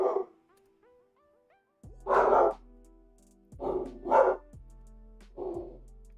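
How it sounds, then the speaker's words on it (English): Dog barking in a Zelda: Ocarina of Time minigame, Rupee Rush, heard as a few loud separate barks with pauses between them over a steady synthesized game music backing. "Dog."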